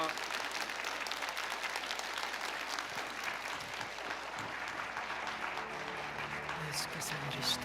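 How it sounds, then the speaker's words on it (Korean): An audience claps steadily to welcome a speaker at a church lecture, a continuous wash of applause with faint voices mixed underneath and a few sharper claps near the end. "힘찬 박수로 맞이해 주시면"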